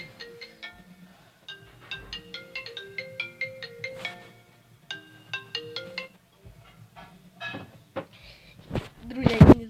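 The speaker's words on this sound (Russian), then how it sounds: "А, кто-то звонит, блин." A phone ringtone plays a bright repeating electronic melody for an incoming call, loud and close, with brief clatter and a voice near the end.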